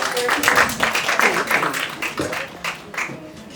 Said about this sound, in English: Would everyone give us a round of applause?